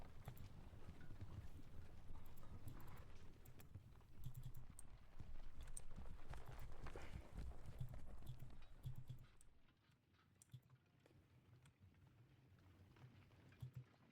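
Horse artillery in a Napoleonic wargame: hooves clop in a steady, busy rhythm alongside rattling movement, loud for most of the clip before dropping away to a quieter background.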